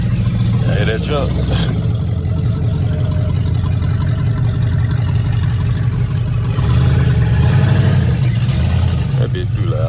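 Loud truck engine driving past, a heavy low rumble that swells and fades with revving surges, with people talking over it.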